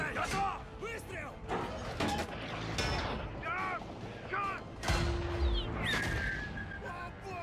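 Tank cannon shots in the game War Thunder boom and thud repeatedly amid crashes and clatter, while voices shout commands throughout.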